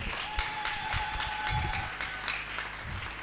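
A church congregation applauding, a steady wash of many hands clapping with a few louder nearby claps and low crowd murmur underneath.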